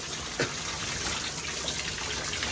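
Steady broadband rush of shower water running continuously, moderately loud and close, with a faint brief knock partway through and no voices.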